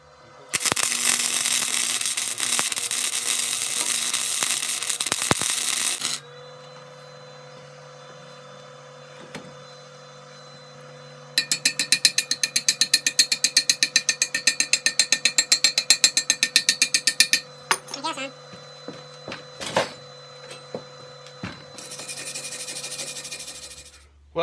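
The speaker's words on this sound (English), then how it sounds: "I'm gonna go ahead and do some test beads right here. See if I can't get this welder set up right." MIG-style welder laying test beads on a custom exhaust build, giving long steady hissing, crackling bursts separated by quieter hum, with a rapid buzzing stretch in the middle and another burst at the end.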